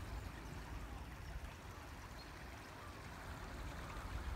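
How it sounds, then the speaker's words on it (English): A low river running gently past soft grass, giving a steady broadband rush and trickle of water that stays fairly even throughout, with no voices. "The river's nice and low today."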